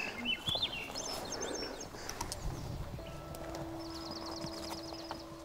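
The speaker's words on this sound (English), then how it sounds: "Having the birds sing." Several birds sing and chirp in Yukon woods, with varied warbling phrases and a rapid repeated trill, fairly close, over soft rustling and low background noise.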